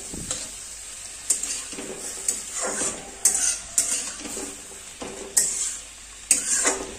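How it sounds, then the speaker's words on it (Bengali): Black-eyed peas (lobia) stirred in a pan over a soft sizzle, with a spatula scraping the pan in repeated, roughly regular strokes, close by. "হালকা একটু নেড়ে চেড়ে নিয়ে নিতে হবে।"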